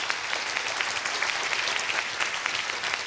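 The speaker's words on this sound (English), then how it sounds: "Please give them a round of applause as well." Audience applause at an awards event, a dense steady wash of many hands clapping that holds evenly for about three seconds, with no talk over it.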